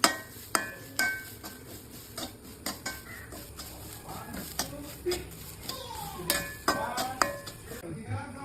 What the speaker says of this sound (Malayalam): എള്ള് നല്ല രീതിയിൽ വറുത്തെടുക്കണം.